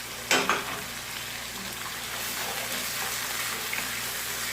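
Chicken with salt, red chili and turmeric sizzles steadily in a pan, with a louder hiss and clatter at the start as it is stirred, then a constant frying crackle.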